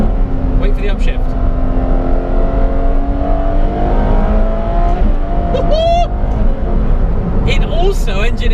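Lykan Hypersport engine revving hard in race mode, pitch climbing then dropping sharply at a gearbox upshift and rising again, loud and continuous with a voice talking over it.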